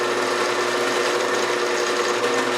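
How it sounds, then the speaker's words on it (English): Power drill boring a hole into a large heavy wood blank held by hand, a continuous steady whirring drone at close range with no voices. "Once you got everything squared up, go ahead and drill."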